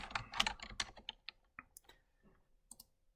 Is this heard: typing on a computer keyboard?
yes